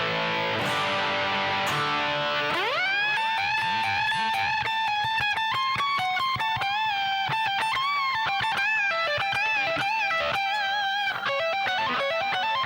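Slowly played sections of a piece on distorted electric guitar: a whammy-bar dive bomb swoops down and back up, then a long, steady run of hammered and pulled-off legato notes rings out clearly with no talking.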